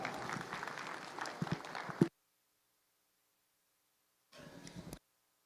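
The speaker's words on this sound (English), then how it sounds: "Let's give them a big round of applause" Audience applause at the Cattlemen's Congress prospect steer show, a dense burst of clapping for about two seconds that stops abruptly, then a shorter, softer round after a pause.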